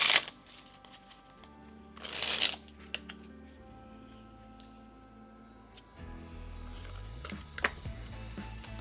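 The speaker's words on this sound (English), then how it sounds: "Quick shuffle to change things up." A deck of playing cards is shuffled during a cardistry practice session: a couple of quick, close riffling bursts near the start, then quieter handling noises and a low hum.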